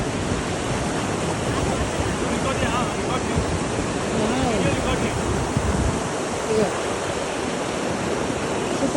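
The Ganga river rushes along its course between Gangotri and Kedarnath, making a steady, loud, close roar of flowing water that continues without a break.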